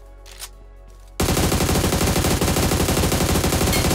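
Rapid automatic gunfire in a PUBG-style battle video game: near-silence with a faint tick, then a loud burst of fast, evenly spaced shots erupts abruptly and keeps hammering without pause to the end.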